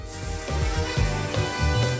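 Makeup foundation being sprayed onto a face, a continuous close, loud airy hiss with faint rubbing textures running through the whole moment.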